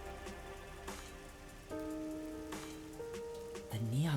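Steady rain in the game Master Detective Archives: Rain Code hisses softly across a busy neon-lit city district, sitting under sustained musical tones that swell near the end.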